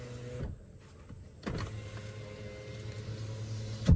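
A 2023 Toyota RAV4 AWD Cruiser Hybrid's electric window motor whirs steadily for a few seconds, a low mechanical hum starting abruptly and ending with a soft thunk, close by.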